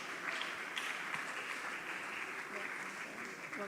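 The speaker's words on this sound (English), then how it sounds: "Keep clapping, keep clapping" At a tech summit, the audience keeps up a steady wash of applause, a dense, even clapping crowd heard from a moderate distance, with faint voices mixed in.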